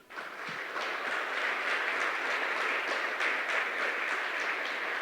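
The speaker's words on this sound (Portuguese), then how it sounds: "Vamos aplaudir a Jesus?" A church congregation applauds, a dense and sustained round of clapping from many people. It rises quickly and holds steady, heard from within the room with no talking over it.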